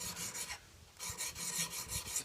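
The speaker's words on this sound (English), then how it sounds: "Sharpening an axe is no different than sharpening a knife or any other cutting implement." An axe edge is stroked on the KME sharpening system, producing repeated rasping, filing strokes in an uneven rhythm, close and moderately loud, with a brief pause partway through and no voices.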